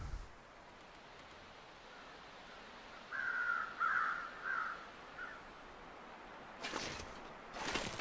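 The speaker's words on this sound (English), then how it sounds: "I hear crows." Crows caw in the video game The Long Dark, a short cluster of harsh calls a moderate distance away over a quiet hiss, followed by two brief bursts of noise.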